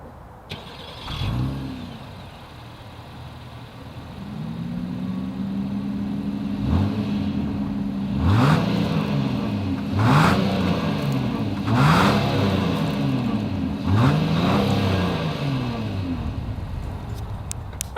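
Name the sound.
SUV engine exhaust revving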